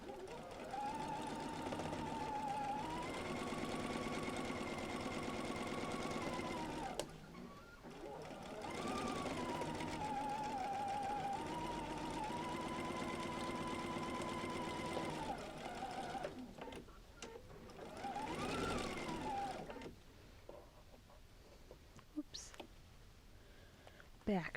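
A sewing machine stitches quilt pieces for a flying geese block in long whirring runs, the motor pitch rising and settling, with brief pauses between seams and a softer stop near the end.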